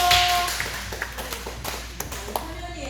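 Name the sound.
audience clapping in church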